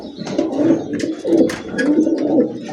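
A grizzle racer pigeon coos in repeated soft, rhythmic throaty phrases, close by and alone.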